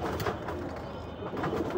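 A pet pigeon coos softly and continuously in a short close burst, with no talking.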